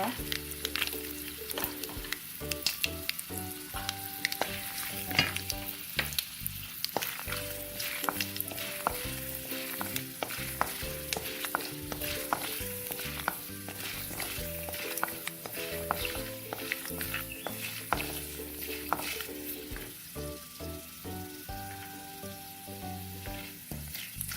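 Chana dal, urad dal and peanuts fry in hot oil for North Karnataka oggarane masala rice, a continuous crackling sizzle with frequent sharp pops and occasional stirring, moderately quiet and heard alone for a long stretch.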